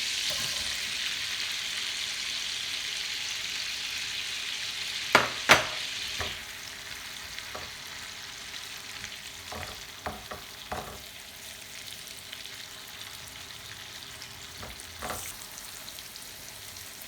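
Onions frying in a pan, a steady soft sizzle close by for the whole stretch, broken by a few sharp clinks and scrapes of stirring.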